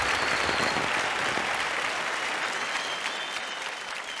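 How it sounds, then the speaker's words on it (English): An audience at a show finale applauds in a dense, steady round of clapping that fades slightly toward the end, with no voices standing out. "Huge round of applause to Anshul."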